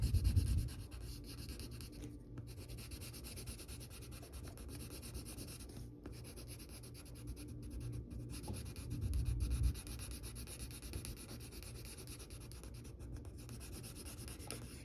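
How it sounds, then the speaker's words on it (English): Graphite pencil shading on paper with the side of the lead, a soft, steady scratchy rubbing that continues quietly throughout, swelling briefly at the start and again partway through. "with the side of your pencil, shade in the rest of the nose"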